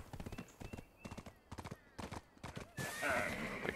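Horse hooves clip-clop in the video game Black Desert Online, a loud, rhythmic run of paired hoofbeats, close up, that gives way to a rushing burst near the end.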